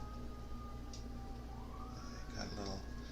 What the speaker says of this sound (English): Got a little siren action going on